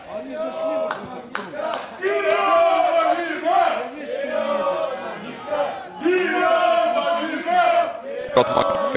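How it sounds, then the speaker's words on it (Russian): Metallurg Magnitogorsk football fans in the stands chant a two-part rallying cry in repeated rhythmic waves, with scattered claps and shouts between the phrases. "Вперед, Магнитка скандирует трибуны"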